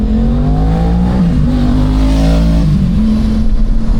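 A car driving in Spain, heard from inside the cabin as a steady, continuous engine and road drone with a slight shift in pitch partway through; no one speaks.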